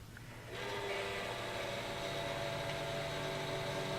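An Xbox 360 slim 500 GB console with an aftermarket cooler spins its fan up from near silence into a steady, broadband whoosh that holds at a constant level, fairly quiet overall.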